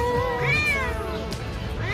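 A cat in Istanbul, Turkey, meows loudly and close by in one drawn-out, rising-and-falling call, with faint background noise and no talk.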